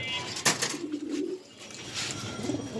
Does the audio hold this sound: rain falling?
no